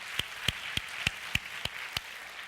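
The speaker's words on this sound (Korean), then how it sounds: "우리 주님께 다시 한번 큰 영광의 박수 한번 드립시다" Slow, evenly spaced single claps at a Korean worship concert, about seven sharp hand claps at a steady beat over a soft murmur of background applause.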